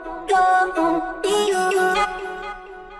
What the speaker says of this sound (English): the first layer I'm going to show you are these vocal chops over here